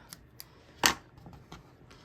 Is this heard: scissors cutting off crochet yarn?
yes